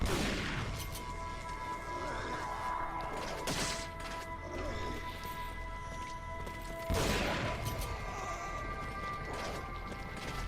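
Shotgun blasts in Resident Evil 4 boom out in a few loud, widely spaced reports over a dense game soundscape with tonal background music.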